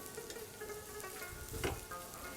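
Onion and garlic sautéing in a pan, a soft continuous sizzle with occasional stirring clatters, close but fairly quiet.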